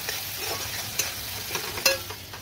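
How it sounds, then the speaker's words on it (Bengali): Spice paste and tomato sizzle in a wok, a soft steady fry with repeated stirring clinks and scrapes of a spoon against the metal. "ভালো করে আমি ভেজে নেব মশলাটাকে এবার টমেটোর সাথে"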